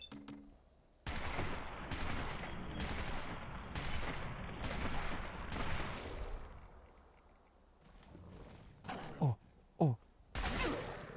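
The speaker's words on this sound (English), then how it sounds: "Do not stand in front of me when I'm shooting this gun." Gunfire in Fallout 4, a string of loud evenly spaced shots close by, then a pause, a couple of brief ringing clinks and one more blast.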